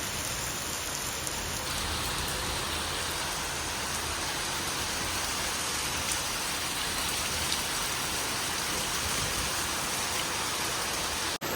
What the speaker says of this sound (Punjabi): ਬਾਛੜ ਵਾਲਾ ਮੀਂਹ ਆ ਪੂਰਾ ਬਾਈ